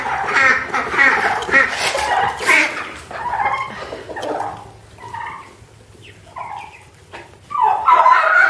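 A mother turkey calling near her chicks: a run of loud, raspy, repeated clucks and yelps, then a quieter stretch of softer broken calls before another loud burst at the end.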